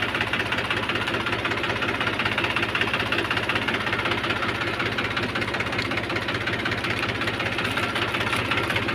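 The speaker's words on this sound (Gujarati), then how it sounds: "ટ્રેક્ટર બંધ કરી દે" A tractor engine idles out on a farm field, a steady, close, low mechanical rumble with an even throb that holds without a break from start to finish, and no voices.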